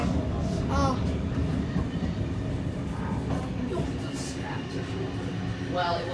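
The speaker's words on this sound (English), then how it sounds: "filming this train arrive at Central" Train pulling into Central station in New South Wales, a steady low rumble filling the platform while people chat nearby and brief squeals rise above the noise.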